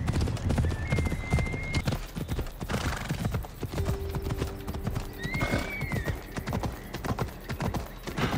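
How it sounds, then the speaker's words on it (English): Horse hooves clip-clopping in the video game Assassin's Creed Odyssey, a steady rhythmic trot heard up close with occasional whinnies and ambient game sounds. "I need to take this horse either to Adonis or to the stable boy."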